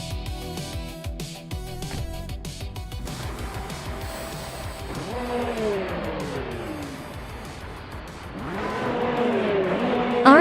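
A 2008 KTM Crossbow GT4 race car in a racing video game, its engine revving and rising through gears with sweeping pitch climbs, tire squeal and other cars around, growing louder toward the end.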